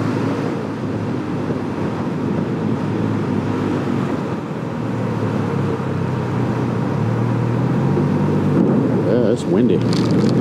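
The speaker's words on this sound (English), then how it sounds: "25, 30 mile an hour winds here blowing this rain around." Heavy wind-driven rain in a severe thunderstorm, heard from a moving Can-Am Ryker three-wheeled motorcycle: steady roaring wind and rain noise mixed with engine rumble throughout.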